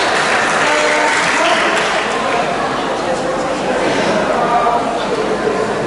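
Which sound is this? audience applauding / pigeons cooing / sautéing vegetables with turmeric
audience applauding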